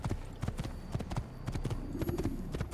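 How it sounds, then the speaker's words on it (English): A horse's hooves clop in a steady rhythmic pattern in Assassin's Creed, close and fairly clear, with a few brief sounds in the background. "I think there's a horse next to it too."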